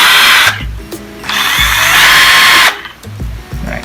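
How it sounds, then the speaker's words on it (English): A Mikisa cordless drill whirs in several bursts, spinning up and winding down between pauses, with clicks and handling noises in the gaps, close and loud. "this one is the drill"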